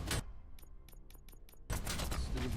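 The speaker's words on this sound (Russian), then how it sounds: "Стрельба в видеопрокате." Gunfire in the video game RoboCop: Rogue City: a sharp burst, then a string of five evenly spaced shots over a dense game background, ending in a loud sustained blast of noise.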